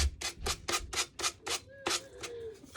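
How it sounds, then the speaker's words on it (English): A cheap Dollar Tree sanding block rubs over a wooden plank in quick, rhythmic strokes, about ten close scratchy passes. "This is just a Dollar Tree sanding block that I'm using."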